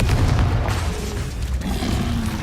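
Confringo spell explosion in the Hogwarts Legacy video game, a heavy booming rumble with a roaring low blast that stays loud and dense throughout.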